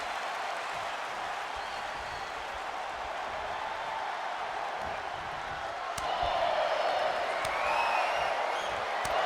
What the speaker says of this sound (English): you hear the crowd feeling the intensity of those chops as Tony Samuels drives the knees